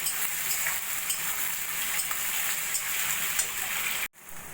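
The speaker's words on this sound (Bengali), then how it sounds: "সেই পেঁয়াজটা আমি একটু হালকা সোনালি করে ভেজে নেব।" Chopped onions, about 300 grams, fry in hot oil until light golden, giving a steady close sizzling hiss for several seconds that cuts off abruptly near the end.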